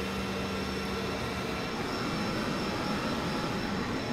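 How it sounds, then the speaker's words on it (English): A laser cutter runs with its air assist unit vibrating and blowing a jet of air from the aperture, giving a steady, even broadband hiss and hum throughout. "The air assist unit here is vibrating, which means there's a nice jet of air coming out of the aperture there"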